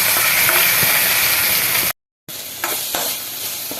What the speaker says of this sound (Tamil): இப்போ வச்சிருக்க தக்காளிய போட்டு நல்லா வதன்னு வதக்க வேண்டியதுதான்